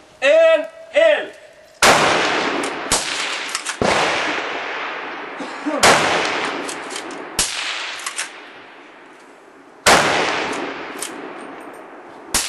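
Loud gunshots from a kammersmell, a powerful black-powder blast, fire at irregular intervals, each sharp crack echoing and decaying, after a brief sweeping electronic tone at the start.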